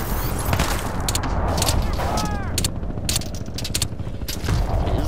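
Silenced gunshots in Crysis 2, soft muffled pops repeating among mechanical clicks and scrapes, with a voice talking over them.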